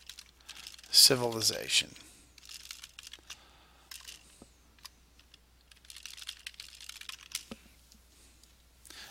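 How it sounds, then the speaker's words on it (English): Quick bursts of keyboard typing, then scattered lighter keystrokes and clicks continuing quietly under a voice. "it's just as simple as typing that text in there"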